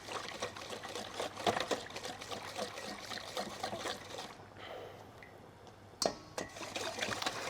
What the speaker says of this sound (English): I've got a little whisk over here, or you can use a fork, just mixing that together